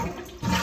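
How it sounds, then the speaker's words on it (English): A toilet bowl flushes after its water valve has been shut off, a short close rush of water that surges louder midway. "And then flush your bowl."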